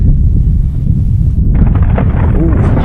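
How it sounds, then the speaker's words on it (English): Thunder rumbles during a storm on an Arizona public land mule deer hunt, a loud continuous low roll with heavy wind-like noise and a brighter crackle partway through, no voices. "hear that thunder?"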